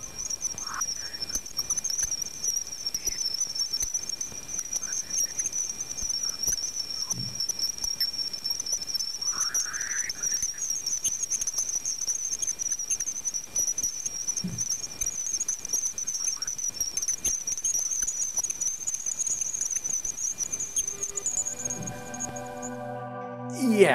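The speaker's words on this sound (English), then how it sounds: "Here's the sound of Jupiter." Voyager 1 recorded plasma waves as it approached Jupiter. The recording is an eerie, steady high whine over dense crackling hiss, with a few faint chirps and sweeps, and ends in a brief tonal burst.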